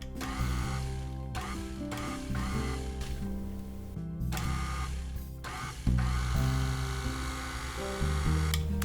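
An electric mixer whirs steadily with a dense, buzzing motor drone, its pitch dipping and wavering as it labors through thick frosting with powdered sugar.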